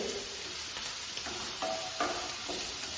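Onions with green chillies and dried red chillies frying in a pan, a steady soft sizzle broken by a few light scraping stirs of a spoon against the pan.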